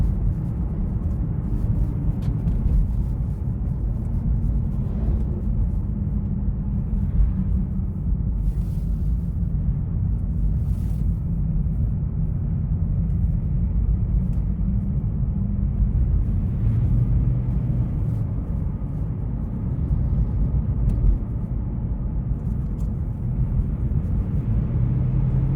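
A Toyota Prius 30 accelerates on the road, heard from inside the cabin as a steady, loud low-frequency rumble of road and engine noise that continues without a break.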